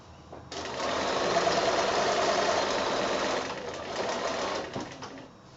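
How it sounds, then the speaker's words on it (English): A sewing machine stitching quilt binding on a giraffe wall hanging runs steadily for several seconds with a fast, even mechanical whir, close and alone, then slows and stops. "I've got this one ready to start sewing from the end"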